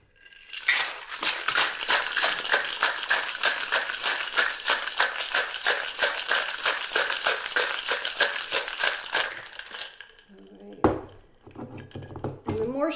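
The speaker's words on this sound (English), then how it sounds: "And then you're going to give this a shake." A cocktail shaker holding a grapefruit jalapeño margarita with ice is shaken hard for about ten seconds, giving a loud, steady rhythmic rattle of ice against metal, then stops as a voice starts talking.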